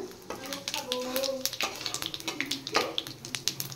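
Dry red chillies and bay leaves go into hot oil in a home kitchen, setting off a soft crackling sizzle with scattered pops and stirring clatter, heard beneath people talking.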